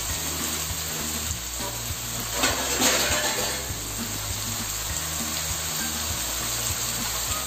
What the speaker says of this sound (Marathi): गॅस कमी करून आपण त्याला 2-3 मिनिटं ह्या कांदा आणि टोमॅटोला वाफ देऊया.